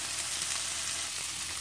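Shrimp frying in a hot pan for shrimp teriyaki lettuce wraps give off a steady, close, dense sizzle with no pauses and no talking.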